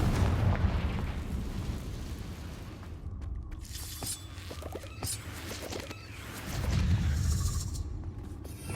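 The Confringo explosive spell is cast in the video game Hogwarts Legacy. Booming blasts at the start and again near the end are separated by scattered crackles, pops and debris clatter, all fairly quiet.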